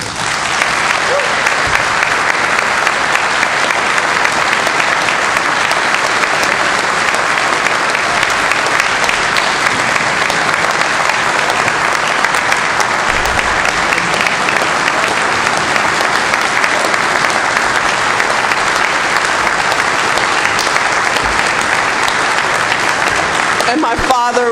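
Loud, sustained applause from a large hall of fame ceremony audience, dense and unbroken clapping at close range lasting the full twenty-odd seconds.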